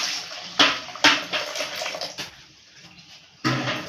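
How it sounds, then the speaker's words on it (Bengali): Water poured in several splashing bursts into a pan for steamed hilsa fish, heard up close with brief pauses between pours and a final gush at the end. "এবার আমি পরিমাণ মতো জলটা দিয়ে দিচ্ছি।"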